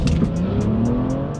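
A BMW F30 340i launches hard on a drag strip, its engine roaring loud and close with a steady climbing drone and rhythmic pulsing as it pulls away.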